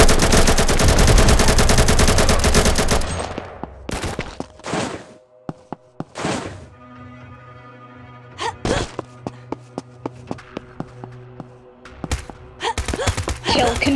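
Pistol fire in the shooter game Combat Master: a loud stretch of rapid shots at the start, then sparse single shots and short pops with quiet gaps, before more firing near the end.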